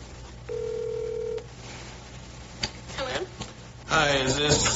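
A telephone call being placed: a short dialing tone and keypad beeps, followed by a brief ring and then a voice answering on the line, with faint background hum throughout.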